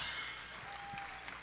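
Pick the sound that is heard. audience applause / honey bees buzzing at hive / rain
audience applause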